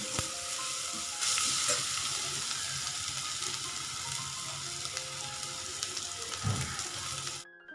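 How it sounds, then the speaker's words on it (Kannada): Ginger garlic paste frying with onion and curry leaves in a pan, a loud, steady sizzle with occasional stirring scrapes and a low thump near the end before it cuts off. "ಶುಂಠಿ ಬೆಳ್ಳುಳ್ಳಿ ಪೇಸ್ಟ್ ಹಸಿ ವಾಸನೆ ಹೋಗೋವರೆಗೂ ಚೆನ್ನಾಗಿ ಫ್ರೈ ಮಾಡ್ಕೋಬೇಕು"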